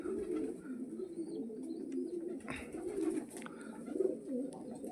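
Pet pigeons kept in a large backyard loft coo in low, rolling, overlapping calls that continue throughout, with a few faint higher chirps above them.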